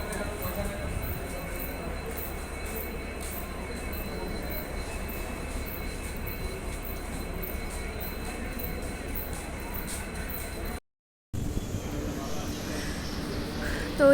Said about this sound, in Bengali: ওই যে আমাদের ট্রেন ঢুকে গেছে